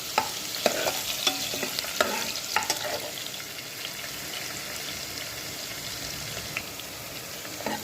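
Finely chopped onions, two medium ones with cumin seeds, fry in a pan with a steady close sizzle and repeated scraping stir strokes, loud at first then settling into an even hiss.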